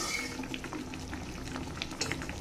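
Poa fish curry with taro and sesame paste boiling in a pot, a steady low bubbling and simmer with soft irregular pops and plops, close and continuous, no voices.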